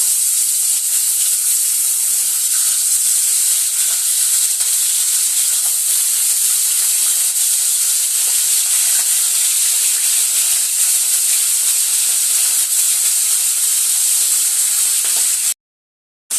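Fish fries in hot oil with a loud, constant hissing sizzle that runs unbroken before cutting off abruptly at the end.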